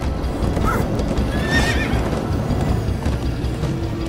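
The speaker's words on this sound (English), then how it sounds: "Come on, horses!" Horses in a Minecraft story game galloping with rapid clip-clop hooves and a loud whinny partway through, close and continuous with no talk.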